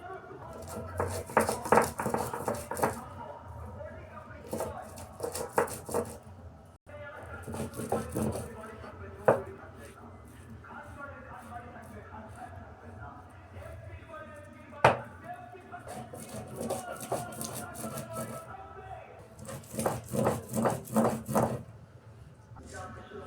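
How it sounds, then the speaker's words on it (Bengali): Ginger is ground into paste for a soybean dish, with bursts of rhythmic scraping and grinding strokes, close and fairly loud, separated by short quieter gaps. "এবার আমি আদাটা বেটে নেব।"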